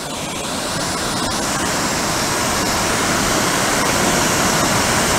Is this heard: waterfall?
yes